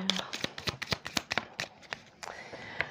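Tarot cards are shuffled close up in quick riffling bursts of crisp flicks and snaps, fairly quiet, with a voice speaking faintly alongside.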